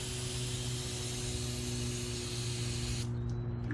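Starter fluid sprays from a can in one continuous, even hiss that cuts off abruptly near the end, close up over a low mechanical hum during a repair of a RZR 1000 trailing arm.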